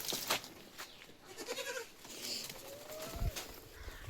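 A crossbred goat kid, about a month old, bleats faintly a few times amid soft farmyard background noise, with bird chirps and a brief low thump.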